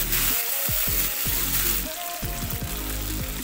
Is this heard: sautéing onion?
yes